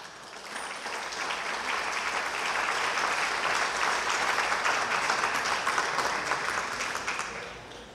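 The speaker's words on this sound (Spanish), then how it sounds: "Voy a pedir que recibamos con un fuerte aplauso a Ricardo" Strong applause from an audience at a women's day tribute event welcoming a guitarist to perform, a steady wash of clapping that swells and holds before easing off, with little talk.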